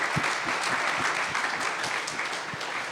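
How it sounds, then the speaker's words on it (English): A conference keynote audience at AMP Conf gives steady applause to project contributors, a dense wash of clapping from a large room with a few low thumps. "let's give them a big round of applause"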